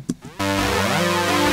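A Juno synthesizer with one of its six voices broken, played as a loud sustained chord that swells in after a brief noisy burst and holds steady.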